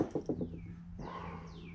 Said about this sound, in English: I guess the rain stopped and the birds are out